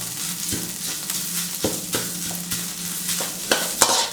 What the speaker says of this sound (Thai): ตรงนี้ก็ค่อย ๆ ผัดนะครับ